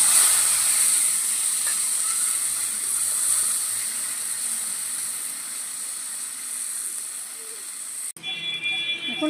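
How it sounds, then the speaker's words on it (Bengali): Hog plums (amra) sizzle in hot fish-frying oil, a steady loud hiss and crackle filling the clip, with a brief clatter of utensils near the end. "আমড়া কটা ভেজে নেব"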